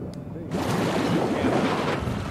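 A boat engine in The Last of Us Part II starts up after a brief pause and settles into a loud, steady rumble mixed with wind and water noise.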